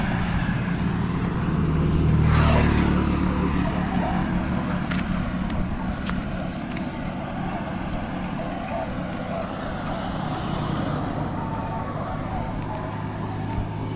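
A car approaching and passing on a street in Langas, Eldoret, Kenya, with a broad engine and road rumble that swells around the second or third second and then fades. Steady outdoor background noise runs throughout.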